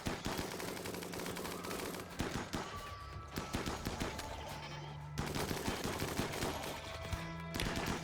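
Sustained automatic gunfire in Rimworld during an assault on a mechhive, long rattling bursts of rapid shots layered over steady background music, with short gaps between volleys.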